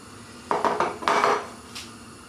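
Chicken is stirred in a frying pan over low heat, a few close clattering scrapes and knocks of a utensil against the pan in two short bursts, then quiet, with no talking.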